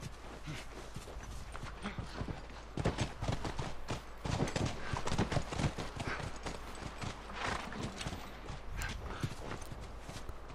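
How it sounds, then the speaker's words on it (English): Horses walk in The Last of Us video game, their hooves clip-clopping in an uneven steady rhythm close by, with a faint whinny and light background ambience. "Come on, back to the horses."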